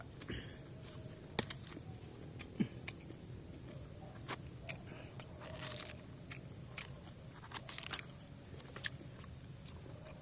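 Close, crisp crunching and biting sounds of someone chewing young coconut shell, irregular chews with sharp cracks scattered across a quiet background.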